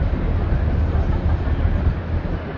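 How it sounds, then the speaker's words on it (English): Continuous heavy rumble of a Chicago L train passing on the elevated track over the river, loud and close, steady throughout with no voices. "as we go under the L train track"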